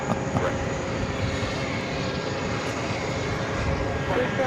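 Emirates airliner taxiing toward runway 13 right at New York JFK, a steady, moderately distant engine roar holding level for the whole stretch.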